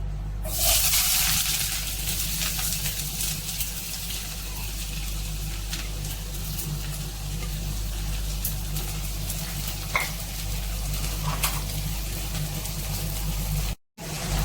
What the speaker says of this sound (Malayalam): മത്തി ഫ്രൈ ചെയ്യാൻ വേണ്ടി നമ്മൾ പാനിലേക്ക് ഇട്ട് കൊടുത്തിട്ടുണ്ട്